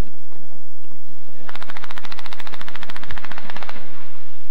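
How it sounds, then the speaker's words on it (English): Machine guns mounted on Israeli tanks fire on nearby Palestinian positions: one rapid, loud, continuous burst lasting about two seconds, followed by a low thud. "Machine guns on these Israeli tanks opened up on Palestinian positions nearby"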